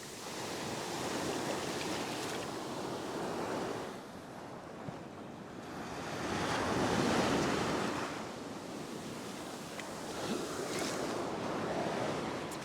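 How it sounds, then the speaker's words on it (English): Ocean surf breaks on a fishing beach in steady, rushing swells that rise and fall every few seconds, loud and close, with wind buffeting the microphone. "when the big waves come, they will reach me."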